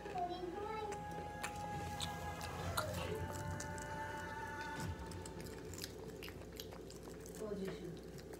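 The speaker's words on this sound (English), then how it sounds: "I can't eat them that fast, but I can crunch fast, at least." Potato chips are crunched quickly in rapid, close, crisp bites, with a person talking over the chewing.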